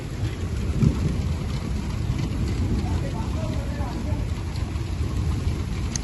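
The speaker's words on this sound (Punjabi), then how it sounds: "ਮੀਂਹ ਨੇ ਹੋ ਗਈ ਸਪੀਡ ਤੇਜ਼" Heavy rain pours steadily outdoors in Punjab during wheat harvest, a dense, loud roar with low rumbling underneath throughout.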